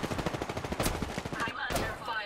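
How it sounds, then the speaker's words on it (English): Rapid automatic gunfire rattles in Apex Legends, a fast string of close, loud shots followed by a couple of sharper single reports. "I'm under fire."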